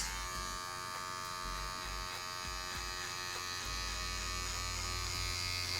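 An electric hair clipper with a number 1.5 guard hums steadily while cutting a fade, its tonal buzz close and continuous, with faint ticks of the blades working through hair.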